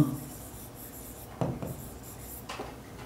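Close, faint scratching of a pen writing by hand on paper while ledger columns are drawn up, with a few louder strokes and taps between lighter scribbles.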